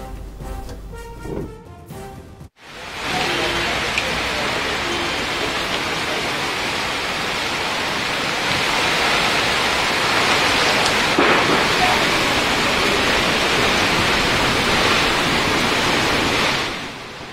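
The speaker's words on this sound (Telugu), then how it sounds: "సనత్ నగర్ ఏరియాల్లో వానలు కురిశాయి." Heavy rain falls during a thunderstorm in Hyderabad, making a loud, steady wash of hissing noise that runs without a break after a brief, different sound at the start.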